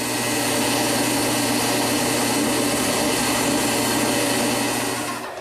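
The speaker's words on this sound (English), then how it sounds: "I want to drill holes on these interior cuts so I can feed the blade through" Power drill boring holes through wood for interior scroll saw cuts while building a corner chair in a workshop, a steady loud whirring drone running continuously for about five seconds before tapering off.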